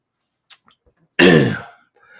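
A person indoors gives a single short, sharp sneeze or cough that bursts out suddenly and fades within half a second, after a faint brief sound and near silence.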